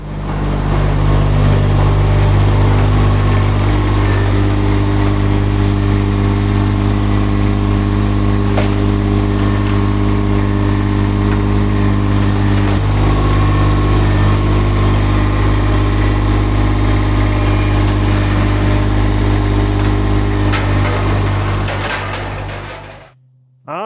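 Baumalight 630D machine moving trailers, its engine running at a steady, loud drone with a low hum and light mechanical rattles before it cuts off at the end.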